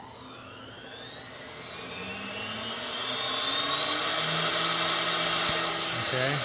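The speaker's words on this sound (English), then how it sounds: "Now we're going to spin up the spindle." Baileigh WR84V milling machine spindle spinning up at its slowest speed setting, a steady motor whine with rising tonal sweeps that grows gradually louder over several seconds, heard alone without talk.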